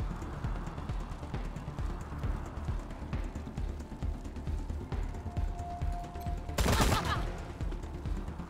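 Gunfire from Marshall Kwan in the Wasteland 3 video game, a dense steady patter of shots and impacts over game ambience, with a sharp louder burst near the end.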